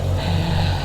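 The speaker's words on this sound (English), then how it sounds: "There's the engine." A Ferrari 458 Spider with its V8 idling, giving a steady, low, even rumble close by with no talk over it.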